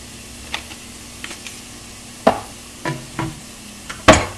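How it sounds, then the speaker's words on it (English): Hot chili powder and ground cumin being stirred in a pan over rising heat: a handful of separate scraping strokes with short bursts of light sizzle, close and fairly quiet, no voices. "And we're just going to stir that around a bit."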